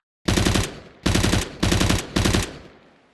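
Four short bursts of rapid automatic fire from a UMP submachine gun in Counter-Strike 2, loud and close, each burst cut off sharply with brief pauses between.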